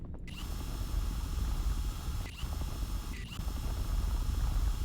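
A mining drill in the video game Drill And Delve grinds steadily with a low mechanical rumble, broken by a few brief sharp scraping bursts, loud and continuous, with no talk.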